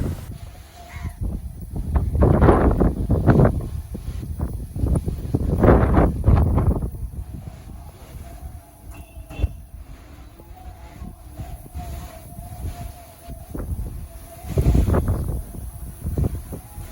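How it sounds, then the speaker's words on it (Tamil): Strong evening wind gusting across a rooftop, with loud broadband buffeting bursts that swell and fade, a low steady rumble between gusts. "அதுக்கப்புறம் ஈவினிங் பார்த்திங்கன்னா செம்ம காற்று"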